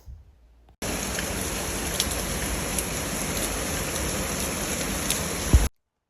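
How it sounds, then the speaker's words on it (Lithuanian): Steady, heavy rain pours down in a dense, unbroken hiss for several seconds, then cuts off abruptly. "Sekantį rytą už lango mus pasitiko stiprus lietus."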